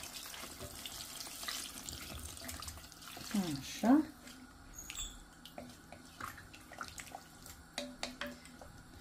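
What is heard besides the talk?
water being poured into a cooking pot for chicken stew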